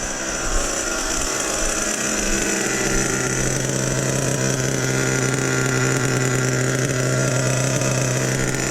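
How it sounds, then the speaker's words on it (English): A loud, rumbling truck engine idles and revs close by, with a rough, uneven exhaust note that sounds crackly and poppy throughout. "Exhaust is getting loud and poppy,"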